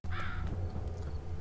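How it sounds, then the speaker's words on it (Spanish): A crow caws in the zombie survival game Undawn, a single harsh, raspy call near the start that rings out clearly over a steady low rumble of game ambience. "Hostia, un cuervo."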